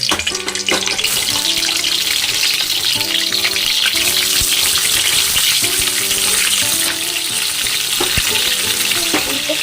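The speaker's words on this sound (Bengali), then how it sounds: "আমি এবার ফুলকপিগুলো ভেজে নেব" Cauliflower florets frying in hot oil in a wok, a loud continuous close sizzle and bubbling with rhythmic stirring clatter throughout, no talking.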